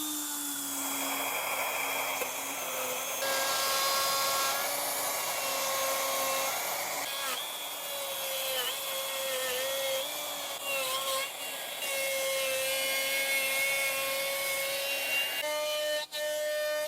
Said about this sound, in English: The router is going to make so much noise I probably won't be able to talk over it.